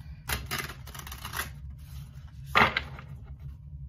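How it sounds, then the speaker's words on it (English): Tarot cards riffle and flutter in quick bursts, a couple of shuffles close by with brief pauses and a sharper snap near the end. "let's just give this a few more shuffles"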